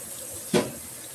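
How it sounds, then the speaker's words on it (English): Tap water runs into a kitchen sink to rinse green beans, a steady close hiss with one brief splashing burst in the middle. "put my green beans so they can rinse as well."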